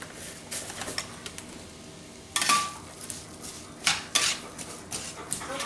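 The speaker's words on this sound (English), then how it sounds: "I'm going to start giving that a nice stir." A spoon scrapes and clinks around a pot of taco hotdish casserole, giving a few sharp metallic knocks and scrapes spaced out over quiet gaps, fairly close.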